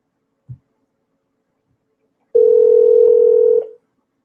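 A telephone dial tone on a radio station's phone line: a brief soft click, a pause, then a steady, loud, unbroken tone that holds for about a second and a half before cutting off, with no talk.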